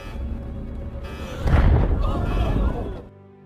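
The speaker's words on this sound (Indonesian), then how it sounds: "Namun sayang, roket tersebut terbakar dan meledak." A rocket explodes after launch in a film scene, a heavy rumbling boom swelling over sustained low roar and fading after a couple of seconds, with a voice talking over it.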